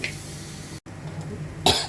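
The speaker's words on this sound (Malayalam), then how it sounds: "മുളകിൻ്റെ ചുമ" A person coughs sharply twice while cooking fish curry with chili and tomato, the coughs close and loud over faint kitchen background noise.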